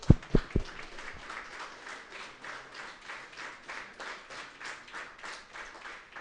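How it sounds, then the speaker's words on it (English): An audience at a university law faculty's National Scholars Day and Dean Award ceremony applauds: a few sharp claps up front, then a steady, rhythmic round of clapping from a crowd in a hall, moderately distant. "Give a clap."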